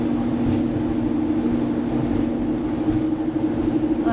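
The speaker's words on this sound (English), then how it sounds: "There's a train coming around the bend." A long freight train of oil tankers rolls past on an open, windy plain near a Montana reservoir, a steady loud rumble and rail drone with wind buffeting, the tone rising at the very end.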